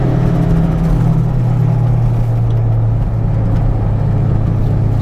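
Toyota MR2 Turbo engine droning loud and steady from inside the cabin during a fumbled downshift into second gear on a mountain road, a constant low engine note with slight rev changes throughout.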